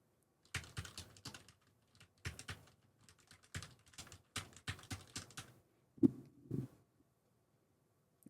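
Someone types on a computer keyboard at a desk, recorded close on a dynamic studio microphone: bursts of quick clicking keystrokes separated by short pauses, ending in a couple of heavier key thumps, with no talking over it.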